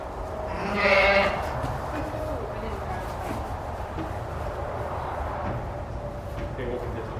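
Rams bleat from a livestock trailer near a sheep pen, one loud bleat standing out early and then fading into steady background noise and murmuring voices.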